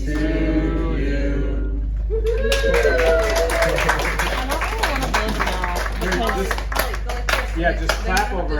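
A small group claps after singing happy birthday, a brisk scatter of hand claps continuing for several seconds, with voices chattering over it after the singing ends.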